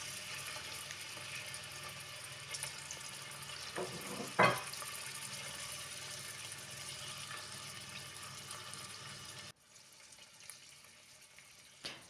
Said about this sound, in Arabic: حطيت شوية زيت وباش نسقط فيها الكبدة